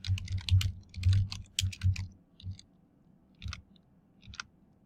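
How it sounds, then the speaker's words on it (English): Search words being typed on a computer keyboard, with quick bursts of close key clicks followed by sparse, slower taps, no talking. "One approach is to simply type those words into QuickFind."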